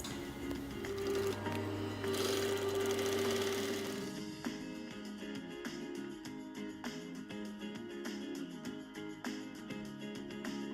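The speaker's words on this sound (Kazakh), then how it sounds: "Енді келесі біз джинсымыздың бүйір жағына лампасымызды қойып тігіп шығамыз." A sewing machine runs at close range as it stitches a side stripe onto a pair of jeans, a steady hum for several seconds that gives way to a rapid rattling stitch with distinct clicks.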